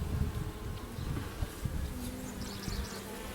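Honeybees buzzing loudly as a frame is lifted out of a farm hive, a dense close hum with individual bees droning past.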